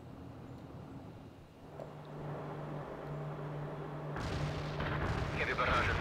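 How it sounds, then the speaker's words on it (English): Artillery barrage in the video game World in Conflict, a rumbling low roar of distant firing that builds and grows louder toward the end, with a voice speaking over it. "Heavy barrage annihilated the enemy at coordinates."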